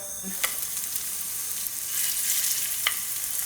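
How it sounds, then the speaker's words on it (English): Lamb lollipops sizzle in hot vegetable oil in a pan, a steady bright crackle close by with a couple of sharper pops, no voices. "Just want to nicely brown them on both sides."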